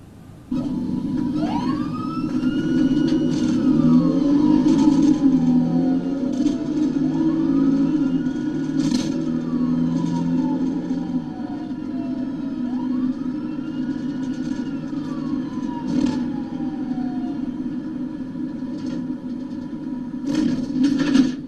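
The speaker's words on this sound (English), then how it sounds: "You'll hear the audio turn on here when he turns his lights and sirens on." A police car siren wails in long rising and falling sweeps, repeating several times over a steady low engine rumble, fairly close and loud.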